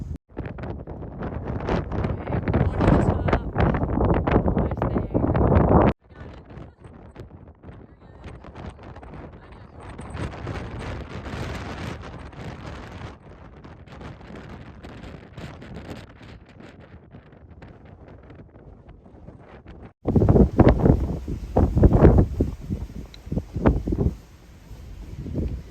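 Wind buffets the microphone on the exposed summit of Mount Lincoln in New Hampshire's White Mountains along the Appalachian Trail, a loud gusty roar with strong bursts at the start and end and a softer rushing stretch between, with no talk.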